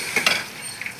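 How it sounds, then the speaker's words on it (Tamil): Onion, green chili, carrot and beans are stirred and sautéing in a pan for a rava kichadi, giving soft sizzling with a couple of light stirring scrapes, fairly quiet and without talk. "காயெல்லாம் போடுறோம் இல்லையா, வதங்கிடு."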